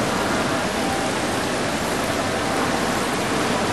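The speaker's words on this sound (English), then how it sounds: "Must be the only waterfall feature in the world." A waterfall feature runs indoors in a building housing an opal statue, a constant broadband rush of falling water, loud and steady throughout with no variation or voices.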